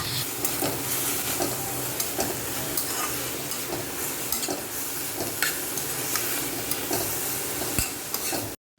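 Slightly bitter leafy greens stir-fry in a pan, sizzling steadily up close while a utensil scrapes and stirs in repeated strokes, with no one speaking.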